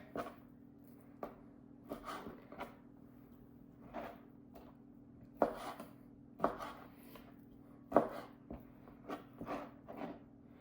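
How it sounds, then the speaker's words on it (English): Swisstech Stählern knife with an AUS8 steel blade trimming a layer of fat off raw meat, giving sparse, irregular soft cuts and taps at close range over a steady low hum, with a few sharper strikes near the end. "I'm just using the knife to do the cutting"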